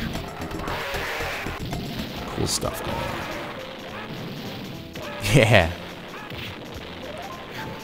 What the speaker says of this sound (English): Smashing tanks, smashing bulldozers, helicopters, people, civilians. Oh yeah, and even buildings.